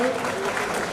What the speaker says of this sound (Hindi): आपका भी महोदय एक बार जोरदार तालियों की गड़गड़ाहट के साथ